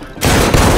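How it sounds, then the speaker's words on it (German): A sudden gunshot bursts out in the video game Detroit: Become Human after a quiet moment, loud and close, with a sharp blast followed by a sustained crashing roar. "dieser Schuss kam so plötzlich"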